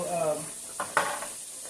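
Pork chops fry in oil in an iron skillet on a stovetop, a soft steady sizzle with a few brief scraping and clinking sounds as they are moved, following a moment of speech at the start.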